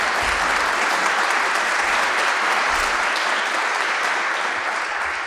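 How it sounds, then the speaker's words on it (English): Loud, dense applause from a debate audience welcoming a speaker, a continuous roar of many clapping hands filling the room from start to finish with no voices over it. "If you could please give a round of applause for Mr. Hamimi."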